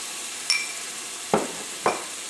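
Tomatoes and spices frying in hot oil for a spicy potato curry, with a steady faint sizzle broken by three sharp stirring scrapes of a spoon against the pan, no voices.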